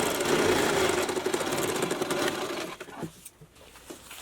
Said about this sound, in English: now I'm going to go ahead and sew each and every piece together.